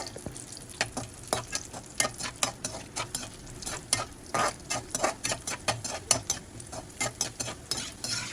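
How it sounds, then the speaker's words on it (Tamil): Cashews and raisins frying in ghee for kesari halwa, a busy crackling sizzle broken by repeated scraping stirs of a spoon against the pan, steady and close with no talking. "முந்திரி நல்லா பொரியட்டும், திராட்சையும் நல்லா பபுள்ஸாக வரட்டும்."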